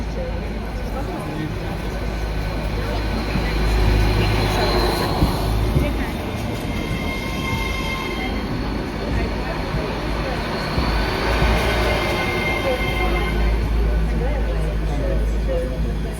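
An EMR Class 810 train rumbles and rolls in at a station with loud, steady low-frequency noise and a brief rising whine, while a person talks over it.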